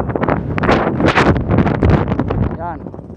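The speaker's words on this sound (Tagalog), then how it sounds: "Pakikita ko po sa inyo kung gano'ng kalakas ang sandstorm dito." Strong sandstorm wind, loud continuous buffeting and roaring gusts battering the microphone close up, with someone talking under the wind.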